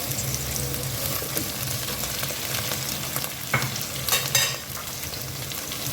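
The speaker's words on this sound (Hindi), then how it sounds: "प्याज हमारे सॉटे हो गए, इसमें अब हम सफ़ेद ज़ीरा ऐड कर दिया हमने। इसके साथ ही हम टमाटर और हरी मिर्ची ऐड कर देंगे।" Sautéed onions with white cumin, tomatoes and green chilies sizzle in a pan while being stirred, a steady close frying hiss broken by a few louder scrapes and crackles, no one speaking.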